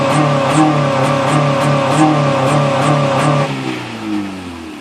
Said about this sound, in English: So if we turn them on, you'd have a rev limiter like this.